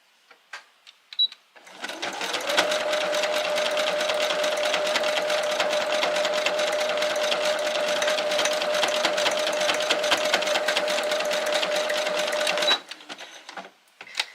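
A sewing machine stitches fabric for a primitive art project in one long unbroken run of fast, even mechanical chatter lasting about ten seconds, close and loud, with a few soft clicks before and after.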